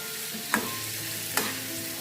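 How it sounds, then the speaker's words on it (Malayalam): Stirring lime and dates pickle in a pan, with two short scraping spoon strokes over a steady low sizzle of oil, close and fairly quiet, no voices. "ഒന്ന് ഇളക്കട്ടെ."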